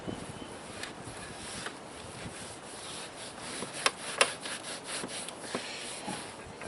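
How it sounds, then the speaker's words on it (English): Hands rubbing dry seasoning into raw meat for barbecue, a soft continuous scrubbing and rubbing texture with a few sharper brief contacts, close and fairly quiet, no talk. "you're actually gonna rub the seasoning into the meat here"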